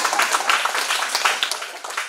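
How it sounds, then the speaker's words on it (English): An audience claps in a brief, steady burst of many hands, fairly loud and close throughout. "I just want to clap just for the question."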